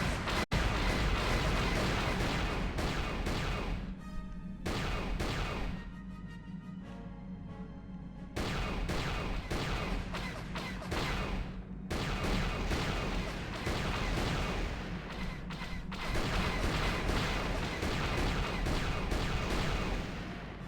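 Incoming gunfire in Star Wars: Knights of the Old Republic, with dense, loud blaster and impact noise filling most of the stretch, broken by brief quieter gaps, and no talk over it.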